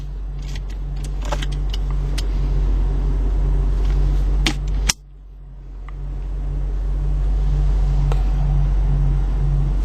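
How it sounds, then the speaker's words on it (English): A 2010 Ford Shelby GT500 Mustang coupe idles with a deep, steady rumble, briefly cut by a sharp click and dip before the engine note settles back in, close and loud. "let's go ahead and turn the engine off now"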